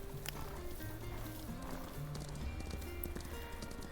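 Horse hooves clip-clop steadily in the video game Ranch of Rivershine, a soft, even trot set under music and ambient tones, with no voices.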